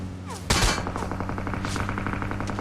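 Gunfire in the mobile battle-royale game PUBG Mobile: a loud burst of shots followed by rapid, regular automatic fire over a steady low hum, close and sustained.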